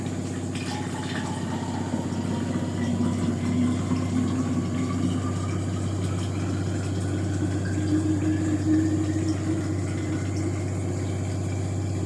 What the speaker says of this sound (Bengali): এগুলো একটু জল ভরে নিই।